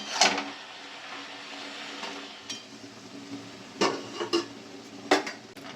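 Bengali-style spinach chorchori is stirred in a pan, with sharp scrapes and clinks of a spatula on metal coming in short bursts over a faint background sizzle, close by and without talk.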